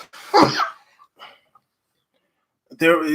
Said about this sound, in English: is sneezing and coughing on this